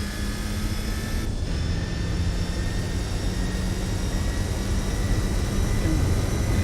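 A car engine in Gran Turismo 4 drones steadily with a thin, buzzy, whining tone and high harmonic whistles, holding a constant level throughout.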